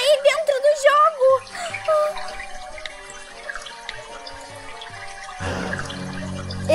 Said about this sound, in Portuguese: Parece um barulho de água em algum lugar dessa sala.